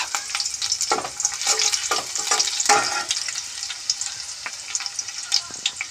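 Chopped garlic sizzles and crackles in hot oil in a wok, with steady frying hiss and intermittent stirring scrapes throughout, no talking.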